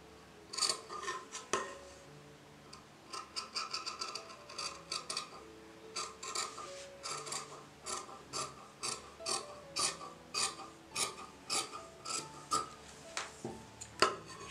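Scissors cut through blouse fabric in a steady run of crisp, rhythmic snips. The close, fairly quiet shearing strokes come one after another, with no voices.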